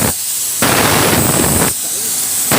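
A spray gun, an F75, lays down base coat automotive paint in two long bursts of loud, close, steady hissing. Brief quieter gaps fall between the passes.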